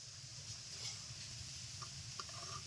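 Biscuits made from egg, semolina and sugar fry in oil with a faint, steady sizzle and soft bubbling, quiet and continuous, with a few light clinks near the end.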